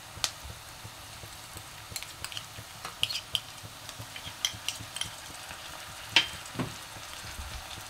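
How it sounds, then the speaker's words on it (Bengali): Onion and garlic paste frying in a pan for a spicy country chicken curry, a quiet low sizzle punctuated by scattered scrapes and light clinks of a spatula, with no voices. "আমি পেঁয়াজটা একটু ভেজে নেব, এবার রসুন বাটাটা দিয়ে দেব।"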